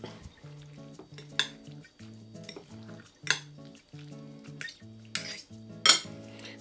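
Utensils toss spaghetti with fresh basil leaves in a pan, giving close, irregular metallic clinks and scrapes with a few louder knocks, over a soft sizzle.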